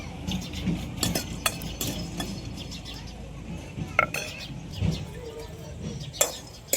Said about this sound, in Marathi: शेंगदाणे घेतले, शेंगदाणे कढईत भाजून घेऊ.